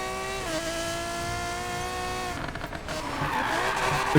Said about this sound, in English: listen to that. The squeaking of the brakes, it's stupid.